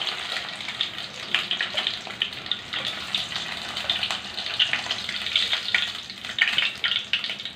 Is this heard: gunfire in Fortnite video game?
no